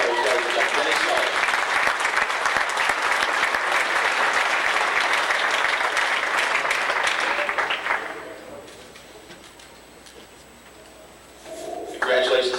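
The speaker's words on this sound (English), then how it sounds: "A nice round of applause from Summerfield, Mr. Dennis Sellers." A banquet crowd applauding a division champion, dense loud clapping for about eight seconds that dies away into quiet room noise before a brief renewed burst at the end.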